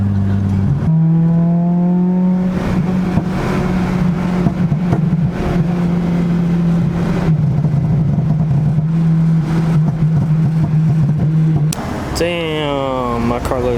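An Acura RSX engine revs hard and climbs in pitch, with sharp crackling exhaust pops over a loud, steady rumble, then another quick rev near the end.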